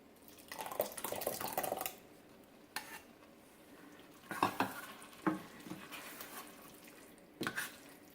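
Spaghetti stirred in a pan with the burner off, giving bursts of scraping and clinking from utensil against metal, some soft sizzle between them, close and irregular, with no talk.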